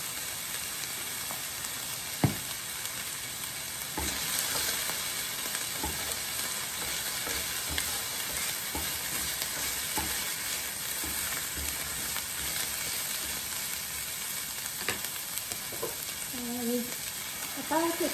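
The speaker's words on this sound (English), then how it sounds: "ginger and the garlic toasting in the oil" Ginger and garlic toast in hot oil in a pan, giving a continuous soft, rain-like sizzle with occasional clicks and utensil taps, steady and close, without voices.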